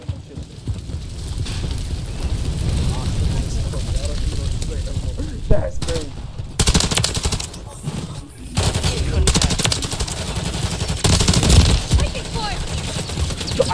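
Continuous automatic gunfire from a shooter video game, loud rattling bursts with brief gaps and renewed volleys, mixed with game effects and some voices underneath.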